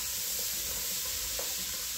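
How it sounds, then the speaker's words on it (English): Ingredients for braised beef short ribs sautéing in a pan, giving a steady, even sizzling hiss with a couple of faint clinks, close and continuous with no talk. "You got that sauteing."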